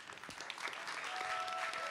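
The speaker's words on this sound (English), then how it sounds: "Round of applause for that, please." Brief, fairly faint applause from a crowd at a political party gathering, a soft rustling patter of clapping lasting a couple of seconds, with a thin tonal whine running underneath.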